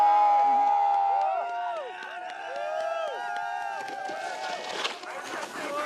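Swiss fans cheer at a freeride ski competition at Val Thorens, France, a crowd's shouts and calls rising under a commentator's voice, with a louder burst near the end.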